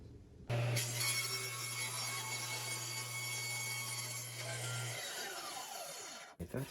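Power saw cutting an inch off a wooden shelf board for built-in bookcases. A single loud, continuous cut runs for several seconds, then the blade whines down to a stop.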